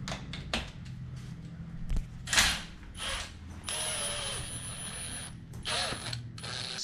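A ratchet undoing 12mm bolts on the transfer case of a 40-series Landcruiser, with rapid ratcheting clicks in bursts, then longer steady ratcheting runs and clanks of metal, close and clear, with no talking.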